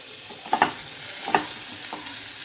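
Fried pointed gourd being stirred into potatoes frying in a pan: a soft continuous sizzle with a few sharp scrapes and clatters of the spoon, close and moderately quiet.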